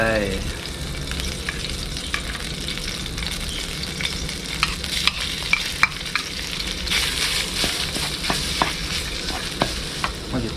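Frog meat being stir-fried with red curry paste in a hot pan, a close continuous sizzle broken by frequent sharp clicks and scrapes of the spatula, with no voices.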